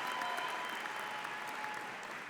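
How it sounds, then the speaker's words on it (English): A commencement crowd gives a brief warm-up round of clapping, a dense, even patter from a large audience that holds steady for a couple of seconds and fades slightly at the end. "Should we do a warm-up clap?"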